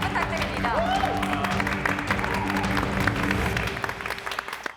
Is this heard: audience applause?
yes